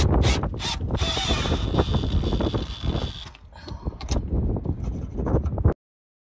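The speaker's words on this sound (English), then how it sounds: "All right, we've got them strapped down" Ratchet straps are cranked tight to hold down containers, giving close, loud repeated clicking ratchet strokes and mechanical rattles in bursts, with a brief pause before more clicking.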